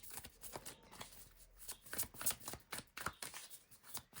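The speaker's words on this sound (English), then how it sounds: "Sometimes it takes a while to shuffle out the cards" Tarot cards are shuffled by hand in quick, irregular riffles and slaps, close and fairly quiet, with no speech.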